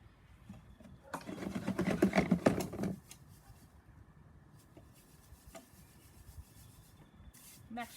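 Basil seed heads are rubbed and mashed through a metal sink sieve, making a close, brisk scratchy rasping for about two seconds before it settles into faint handling noises.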